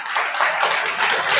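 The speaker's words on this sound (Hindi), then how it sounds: "तालियां बजा सकते हो भाई" A dense burst of audience clapping fills a hall at a pharmacy college ceremony honouring D. Pharma students. It holds steady and loud from start to finish.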